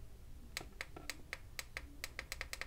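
A dozen crisp, quiet button clicks from an FM transmitter tap out in an irregular series, close by and isolated against faint background hiss.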